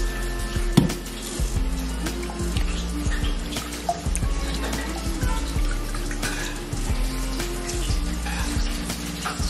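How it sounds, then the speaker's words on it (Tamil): Buttermilk poured into soaked Mappillai samba rice for ice biryani: a loud continuous liquid pour and splashing, close by, with a brief knock early on and steady background hum. "கொஞ்சம் மோர் ஊற்றிக்கலாமா?"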